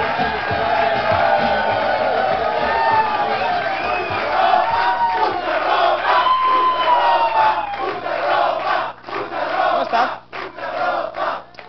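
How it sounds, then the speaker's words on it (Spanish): A live audience cheers, whoops and claps loudly for a woman coming forward on a Spanish-language show, with shouting voices throughout and a few brief dips near the end. "Un fuerte aplauso para Adriana, la tablelera, que pasa adelant"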